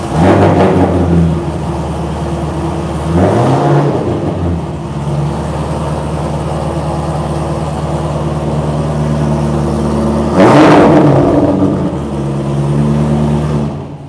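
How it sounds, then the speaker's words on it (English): A Cadillac engine rumbles loudly up close, revving sharply a few times over a deep, steady idle that drones on between the surges. "starting the car, just so we can hear the beautiful sound"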